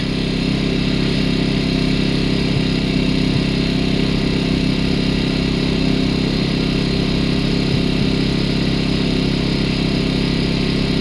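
An AYERBE 1200i inverter generator runs steadily under a 1 kW heater load, a loud continuous engine hum with a strong low drone holding level throughout, with no talk over it.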